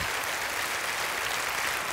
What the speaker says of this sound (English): Join in applause as we welcome Matthew D. Staver to Reclaiming America for Christ.